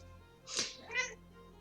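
A domestic cat meows twice in quick succession, two short, fairly close calls separated by a brief pause, with no talk over them.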